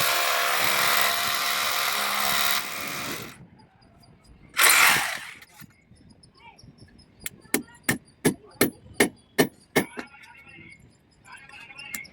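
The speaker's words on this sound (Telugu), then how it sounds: "సో డ్రిల్లింగ్ చూడండి ఒకసారి ఎంత పర్ఫెక్ట్గా చేస్తారు." A loud drill grinds into a concrete roof slab for a few seconds and stops, followed by a burst of noise and a series of sharp rhythmic knocks, during solar panel installation.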